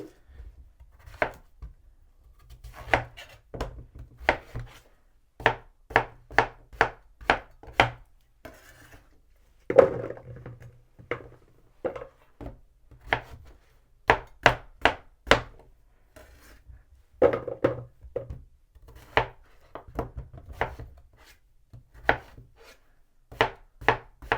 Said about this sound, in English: I'm going to cut the ends off